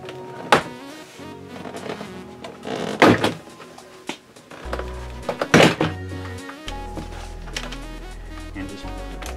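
Plastic trim clips on a Cadillac CTS door panel pop loose in several sharp snaps and thunks at irregular intervals, close and loud, with a low droning hum underneath.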